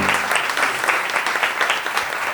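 Steady audience applause closing a literary podcast segment, many hands clapping in a continuous, fairly loud wash with no talking over it.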